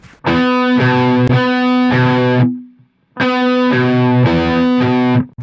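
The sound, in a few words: electric guitar riff without phaser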